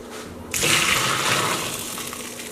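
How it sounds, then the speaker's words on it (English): A sudden rush of hot cooked farro being poured into a pot starts after a brief quiet moment and continues steadily, gradually easing off toward the end. "Then I'm going to pour the farro right in here."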